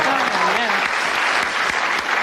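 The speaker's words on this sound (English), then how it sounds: "give a round of applause" Studio audience applause at a BBC Radio 4 comedy show, a dense steady patter of many hands filling the whole stretch, with a voice briefly speaking over the start.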